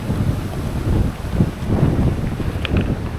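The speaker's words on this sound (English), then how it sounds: "It's really windy, you can probably hear that from the video" Strong wind buffets the microphone in a steady low roar, gusting throughout with no voices, in Ceuta on Spain's border with Morocco.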